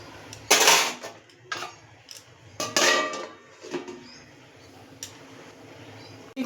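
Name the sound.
covering pan of egg and potato gravy with lid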